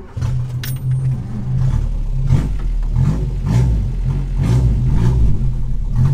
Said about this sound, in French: le pot d'échappement est complètement mort. Donc ça fait un bruit de tracteur